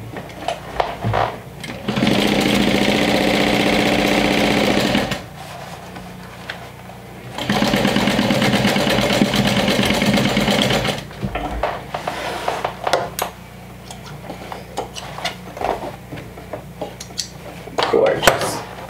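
A sewing machine stitches through the lining of a fold-over clutch in two steady, loud whirring runs of a few seconds each, with handling clatter and a voice talking in between.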